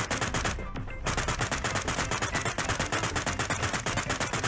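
Automatic gunfire from the shooter game Sausage Man, a rapid, continuous rattle of loud shots with only a brief break near the start.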